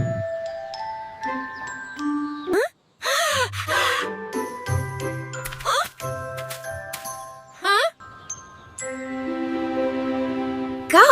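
A cartoon bell rings in bright chiming tones, several separate tinkling dings with short pauses, mixed with cartoon voices and effects.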